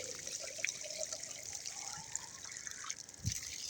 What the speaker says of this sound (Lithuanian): Tuoj prileisim vandens.